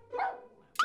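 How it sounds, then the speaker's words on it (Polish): A police K9 dog barks twice in quick succession, the second bark sharper and louder, with brief quiet between them. "nie szczekaj!"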